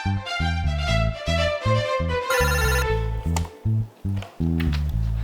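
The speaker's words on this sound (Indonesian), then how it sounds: "Ada telepon dari Pak Restu di line 1" An office telephone rings loudly with a repeating electronic ringtone pattern of short tonal bursts, close and alone.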